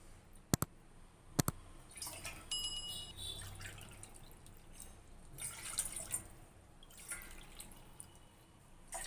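Water is poured from a cup into ragi flour in a pot while making ragi koozh. A couple of sharp taps come first, then soft, faint splashing and sloshing pours arrive in short bursts with quiet gaps between them.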